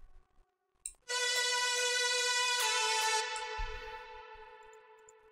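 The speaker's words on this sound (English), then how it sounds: "The second layer sounds like this." A bright layered synth lead for melodic bass music rings out after a brief silence, holding sustained harmonic notes that shift pitch partway through, then fading slightly toward the end, played alone.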